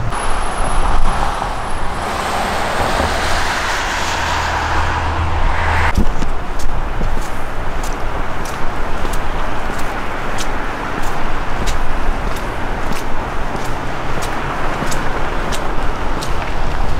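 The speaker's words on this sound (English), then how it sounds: "after this rush of cars goes by, we're gonna get out and go for a walk" Cars rush past on a winter road, a loud continuous roar of tires and engines that swells early then settles into a steady whoosh with a regular ticking in the background.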